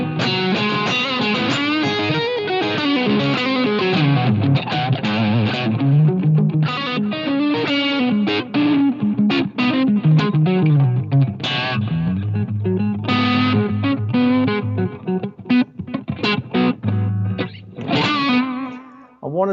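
Electric guitar played through a Line 6 Helix amp model with a touch of delay and reverb: a loud, continuous, driven melodic line with sustained notes and quick runs, playing alone with no talk.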